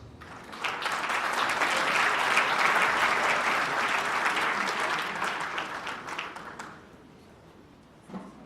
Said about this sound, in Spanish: Recibamos con un fuerte aplauso al licenciado Roberto Hernández.